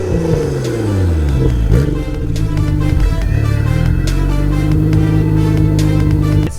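Nissan Skyline R32 GT-R on its stock exhaust, revving steadily and fairly loud nearby, with a smooth rising and falling engine note and no talking.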